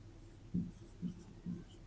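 A pen scratching on paper while a quadratic polynomial is written out for a math lesson, three short close strokes in quick succession over a quiet background.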